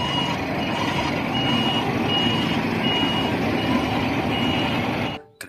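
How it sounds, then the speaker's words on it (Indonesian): A large truck with a steady reversing beeper, the repeating tone sounding over a continuous engine rumble and cutting off abruptly at the end. "mobil truk molen"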